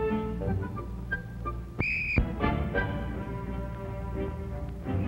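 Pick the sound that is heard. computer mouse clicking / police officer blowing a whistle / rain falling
police officer blowing a whistle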